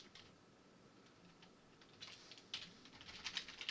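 Code being typed on a computer keyboard for a C++ game framework, quick soft key clicks in irregular bursts that grow busier and a little louder toward the end, close and alone.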